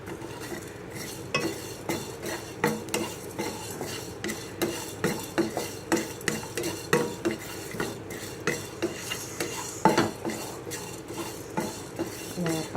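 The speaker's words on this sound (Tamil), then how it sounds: "எண்ணெய் ஊற்றாமல் தான் வறுக்கணும், கருக விட்டுறக்கூடாது." Spices dry roasted and stirred in a pan without oil over a low flame, a steady series of close scraping and clinking strokes from the spoon against the pan, with a faint sizzle underneath and no talk.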